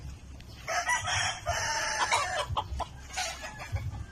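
A Sweater Boston gamefowl rooster crows loudly and close by, one drawn-out cock-a-doodle-doo followed by shorter calls and clucks, with faint low farmyard noise underneath.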